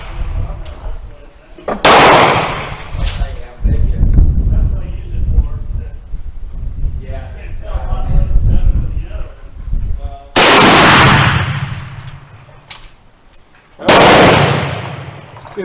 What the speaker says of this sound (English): I believe that's 5 shots.